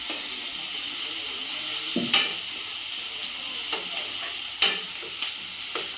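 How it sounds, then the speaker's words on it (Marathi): Onions fry in oil in a pan, giving a continuous close sizzle broken by several sharp clinks and scrapes as they are stirred. "तेल घालून मस्त पैकी दोन मिनिटं त्याला परतायचं आहे"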